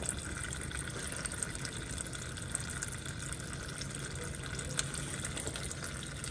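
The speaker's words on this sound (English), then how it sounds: "we're gonna go ahead and let that continue to drain" Coolant drains from a Dodge Challenger Hellcat during a coolant flush, a steady close trickling and splashing of liquid that runs continuously with no pauses or talk.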